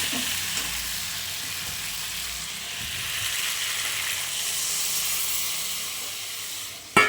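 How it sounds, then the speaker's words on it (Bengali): Water poured into a sizzling spiced vegetable curry sets off a loud, continuous steaming hiss and bubbling that holds steady, ending with a sharp clatter at the very end. "এখন আমি একটু দিয়ে দিব জল।"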